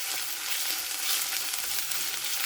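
Sweet potato filling sautés in a pan, giving a dense, even sizzle with faint stirring scrapes, close and steady throughout.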